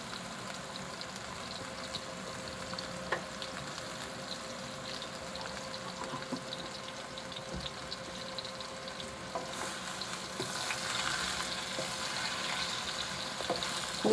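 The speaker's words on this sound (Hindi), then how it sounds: "मीडियम आंच पे इनको हल्का हल्का सा इनको हम तल लेते हैं आलूओं को।" Potatoes fry on medium heat with a steady, even sizzle and soft crackle, growing slightly louder toward the end, with no talk over it.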